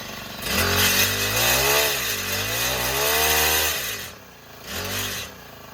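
A Honda FG110 mini tiller engine, bought at auction, runs loud and close with a buzzing, wavering drone that rises and dips in pitch, then eases briefly before picking back up.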